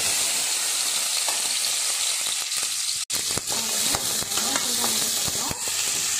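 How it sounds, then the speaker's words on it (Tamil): Three hundred grams of garlic sautéing in hot oil, a loud bright sizzle broken by scraping stirs and a sharp clatter of the spoon against the pan midway. "300 கிராம் பூண்டு போட்டு நல்லா வதக்கிக்கணும்"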